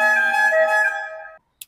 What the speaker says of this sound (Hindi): जब हम सेकंड स्विच करते हैं इसमें चलता है एयर हॉर्न